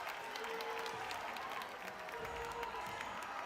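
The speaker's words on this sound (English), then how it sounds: "getting the crowd really hyped up. Starting to get louder in here." A packed arena crowd at a men's college gymnastics meet applauds and cheers steadily, a dense wash of clapping with scattered shouts holding at an even, loud level throughout.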